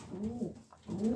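Homing pigeons coo softly inside a loft, two low rolling coos separated by a brief pause, close and quiet.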